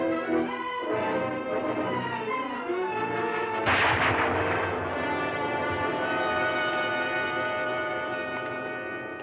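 A gunshot in a 1950s radio drama rings out as one sharp, loud crack midway through, with a long reverberant tail that lingers over a sustained tonal background, no talking during it.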